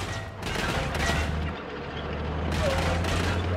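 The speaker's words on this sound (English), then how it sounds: "Bro, who you shooting at?" Gunfire in Far Cry 6, rapid bursts of shots over a steady low rumble, loud and close, with more firing late in the stretch.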